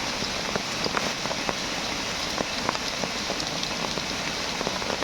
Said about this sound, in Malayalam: ഒടുക്കത്തെ മഴയാണ് ഗായ്സ്